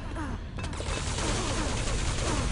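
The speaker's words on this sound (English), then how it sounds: "Machine gun doing 4 damage." Machine gun fire in an arena shooter video game match, a dense continuous burst of rapid shots mixed with game effects, loud and close throughout.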